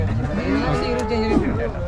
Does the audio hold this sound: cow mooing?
yes